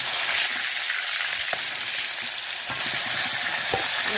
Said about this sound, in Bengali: প্রথমে তেল দিয়ে আমি বেগুনটাকে ভেজে নেব